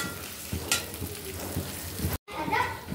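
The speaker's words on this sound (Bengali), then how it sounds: "পেঁয়াজটাকে একটু ভালো করে ভেজে নেব।" Chopped onions fry with salt in hot oil, giving a steady close sizzle broken by a few spoon-stirring clatters and one brief dropout, with faint voices in the background.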